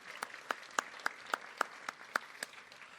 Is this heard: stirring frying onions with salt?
no